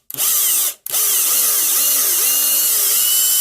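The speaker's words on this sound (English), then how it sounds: "I'll drill again just to clean it up" A power drill bores into a vintage WWF LJN rubber wrestling action figure, a steady close whine with shifting pitch as the bit bites and eases, broken by one brief stop and restart.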